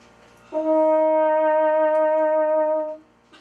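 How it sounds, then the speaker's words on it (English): A sustained trombone tone with a gently wavering pitch from vibrato made by moving the slide back and forth, a single held note of about two and a half seconds, played alone and fairly loud. "using vibrato by wiggling my slide back and forth"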